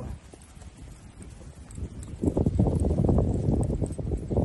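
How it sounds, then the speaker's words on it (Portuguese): A young Mangalarga Marchador mare moves in the marcha gait, her hooves producing a rapid, even clip-clop on the ground. The hoofbeats are close and grow louder and denser partway through, with faint wind noise behind. "Põe no passo e sai com ela na marcha, Zé"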